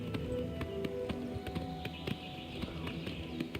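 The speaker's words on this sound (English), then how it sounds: "Horse riding looks pretty good in this" Horse hooves on the ground while riding in the game Oblivion: rapid, rhythmic clip-clop of a running horse, moderately loud and close, steady throughout over a soft background tone, with no talking.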